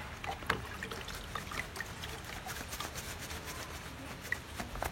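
Water draining and trickling off cation exchange resin after soaking, a steady low splashing dribble with a few brief drips, close and moderately quiet, no voices.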